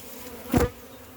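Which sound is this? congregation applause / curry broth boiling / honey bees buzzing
honey bees buzzing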